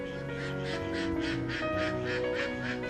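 Ducks quack in the gardens of Foxwood House, where peacocks and guinea fowl also roam, giving a steady run of rhythmic calls at moderate distance over a constant background hum.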